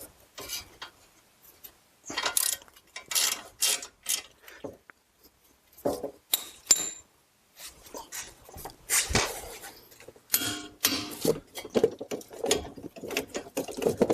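Ratchet tightening the front brake caliper bolts to 115 Nm on a 2008-2016 Smart Fortwo Passion, giving repeated bursts of close, crisp clicking separated by short pauses, with no talk.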